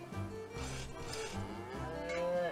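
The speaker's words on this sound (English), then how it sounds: "Strange looking cow," A cartoonish cow moos in the Nintendo Switch video game Dragon Marked For Death, a long tonal lowing that swells and dips in several drawn-out pulses, heard alone over a soft game backdrop.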